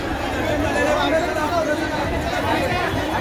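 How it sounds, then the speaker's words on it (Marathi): A dense crowd packs Talavpali Devi temple in Thane during Navratri, a loud continuous wash of overlapping voices and chatter close around. "लोकांची बरीच गर्दी आहे अष्टमीची ओटी भरण्यासाठी."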